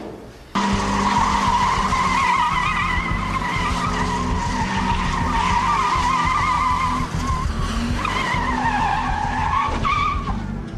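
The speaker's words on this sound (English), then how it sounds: "Reported a vehicle doing donuts in the car park behind the Shire offices in Penhope Road" Tyres squeal and skid continuously as a car does donuts in a car park behind the Shire offices in Penhope Road, the engine roaring under a loud, wavering screech that runs nearly unbroken for about ten seconds.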